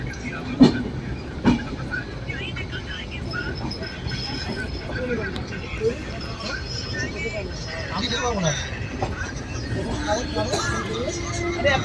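Steady rumble and rattle from inside a slow-moving train between Prayagraj and Varanasi, with a hubbub of passenger voices in the background.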